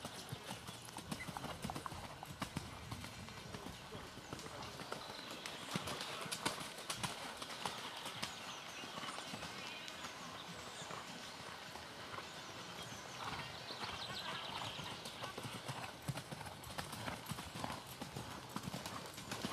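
Horses cantering as a group in an indoor riding arena, their hoofbeats a dense, continuous rhythmic drumming on the footing, heard from a distance and faint, with a voice calling out now and then.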